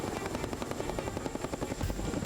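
Close, loud, steady rotor chop from a military helicopter in flight, its rapid blade beat running continuously with no voices.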